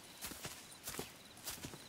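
Horse hooves clip-clop in Red Dead Redemption 2, a quiet, steady walking rhythm of soft thuds over a dull background.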